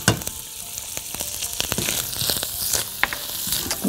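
Garlic sizzling and frying in a pan while being stirred, a steady close crackle with scattered sharp pops and spatters, loud and alone with no talking.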